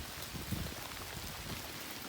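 Steady light rain falls on a campsite in southeastern Oklahoma, a soft, even patter with scattered nearby drops and no voices, fairly quiet throughout.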